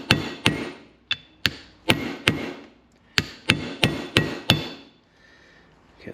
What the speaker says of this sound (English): I'm going to start with the small hammer.